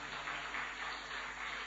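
A church congregation claps hands in praise, a dense, steady wash of applause that holds evenly throughout, sounding somewhat distant and soft, with no voices over it.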